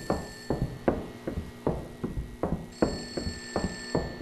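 A telephone rings repeatedly in the horror game Hanako, set in an abandoned school: about ten sharp, evenly spaced bell bursts, clear and fairly close, with a faint steady electronic tone underneath and no talking.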